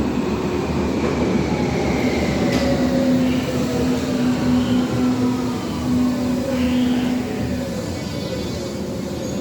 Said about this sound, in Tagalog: Yan ang train natin guys. Parating na.